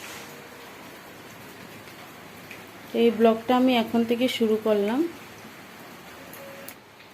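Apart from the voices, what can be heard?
continuous rain falling outside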